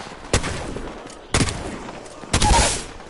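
Three loud, sharp gunshots from a hammer point weapon in a PS4 video game ring out about a second apart, each with a short decaying tail over low background noise.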